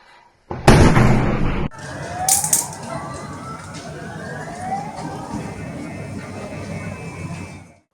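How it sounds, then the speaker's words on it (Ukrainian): A sudden loud blast bursts out, followed by a second sharper crack, then a wailing siren rising and falling in the distance, as airstrikes hit a residential apartment block in Zaporizhzhia. "Вдень у Запоріжжі пролунали сильні вибухи"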